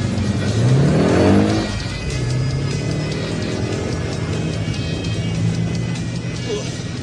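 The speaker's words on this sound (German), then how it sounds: "Vor dem Hauptportal kommt Kit mit quietschenden Reifen zum Stehen. Die beiden springen hinein und mit aufheulendem Motor schießt das Auto davon." A car in a 1989 Knight Rider radio play screeches its tires, then its engine roars and accelerates away, loud and close at first before settling into a steady driving hum.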